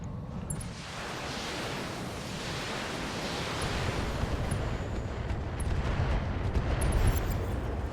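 A volley of Inferno missiles slams into a turret in the BattleTech game, a long rumbling roar of explosions that swells steadily and stays loud without talk.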